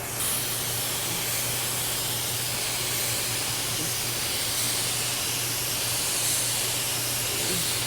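Aerosol primer sprayed onto a car body panel during light rust and dent repair, a steady continuous hiss running unbroken at close range with no talking.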